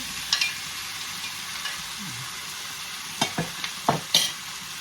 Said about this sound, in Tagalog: Ipa-fry natin dito. Yan. Fry natin dyan.